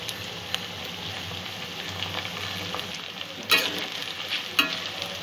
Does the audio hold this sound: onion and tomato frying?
yes